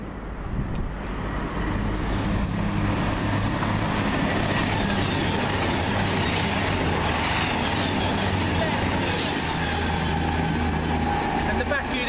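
Passenger trains pass on a main line toward Euston, a loud continuous rumble and roar from close by lasting throughout, with someone speaking over it.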